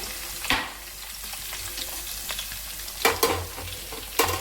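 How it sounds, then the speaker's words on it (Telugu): Garlic drops into hot oil for a Telugu tempering, a steady sizzle and frying crackle with several sharp bursts of spatter and stirring scrapes. "ఇదిగోండి ఆయిల్ కాగింది కదండి ఫస్ట్గా వెల్లిపాయలు వేస్తున్నానండి"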